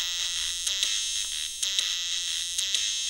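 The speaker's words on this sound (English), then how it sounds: "So here's a really famous game, Dizzy, and you get this very interesting sampled music on the original ZX Spectrum." Sampled music from the game Dizzy playing on an original Sinclair ZX Spectrum: a buzzy, harsh 1-bit tone with steady droning pitches and short rhythmic blips, loud and alone.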